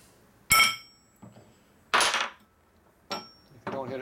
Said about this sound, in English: Now use a steel hammer to pop the crank pin, but hit it flat.